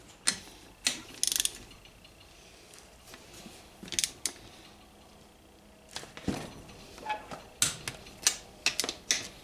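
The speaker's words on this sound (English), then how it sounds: "Now we'll torque them to 22 pounds." A torque wrench tightens engine bolts on a 4 mil stroker lower end, giving irregular bursts of quick, close ratcheting clicks separated by brief pauses.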